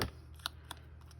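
Scissors snip off a card paper overhang during card making: a couple of quiet, crisp clicks close by over a soft, hushed room background.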